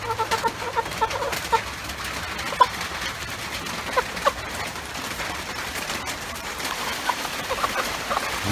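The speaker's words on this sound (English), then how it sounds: "I'm being rushed by a flock of chickens" A flock of chickens clucks and squawks close by on a rainy day, with busy overlapping calls and a few sharper peaks over a steady hiss of rain.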